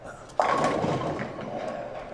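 A bowling ball strikes the pins in a sudden crash and rolling clatter, scoring a high flush strike at a New Year's Eve finals league match.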